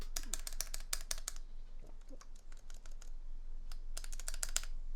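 Typing on a KBD67 MKII mechanical keyboard with rattly stabilizers, rapid bursts of sharp clicks and clacks in two clusters separated by a sparser pause, close and fairly quiet.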